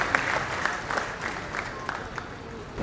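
Audience applause welcoming a guest speaker at an Agrawal community conference in Dhule, Maharashtra, a steady patter of clapping from a crowd with a few sharper claps and a voice speaking underneath.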